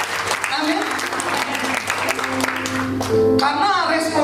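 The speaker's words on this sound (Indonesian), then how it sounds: "saya tepuk tangan buat Tuhan" A congregation applauds during a church worship service, a steady broadband wash of clapping blended with sustained keyboard music and voices, building slightly toward the end.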